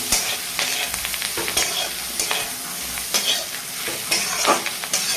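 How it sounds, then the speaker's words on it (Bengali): Fried bitter gourd stirred in a wok over a sizzling base, with repeated scraping strokes of a spatula every second or so, close and fairly loud, no one speaking. "ভাজা উচ্ছেটা দিয়ে সুন্দর করে নাড়ি চাড়ি নিয়ে"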